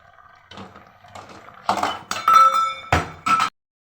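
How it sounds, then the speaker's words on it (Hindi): A lid is lifted off a pot of tomatoes simmering for homemade ketchup, giving a run of metallic clinks and clatters, some loud and ringing, that end abruptly. "15 मिनट हो गए हैं तो इसका ढक्कन खोल के चेक करते हैं।"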